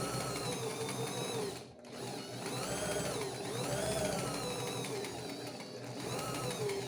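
A sewing machine stitching a seam for a beginner's sewing lesson, a steady close whirring drone with a brief pause and a change in pitch as the stitch is reversed, with no voices.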